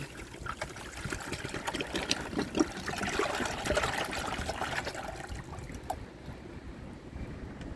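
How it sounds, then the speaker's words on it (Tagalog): Water poured from a container onto potted plants, a soft trickling and splashing that rises and falls for several seconds, quiet and close, then fades. "ating ibuhos po at tayo magdilig ng ating mga halamang ayaw pa niyang mabukas"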